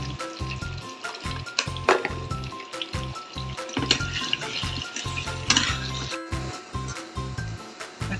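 Potatoes frying in oil, a steady sizzle and crackle under a rhythmic, pulsing low beat, moderately loud and close, with no speech.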